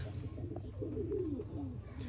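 A Sialkoti pigeon gives a low, soft coo, a single rolling call rising out of a steady background hum, faint and close.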